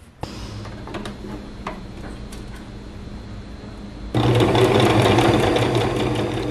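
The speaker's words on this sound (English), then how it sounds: "I sewed these up on the machine" A few faint clicks and handling sounds give way to a close, loud, steady whir as a sewing machine runs, stitching small seams on glove fingers for Regency-era accessories.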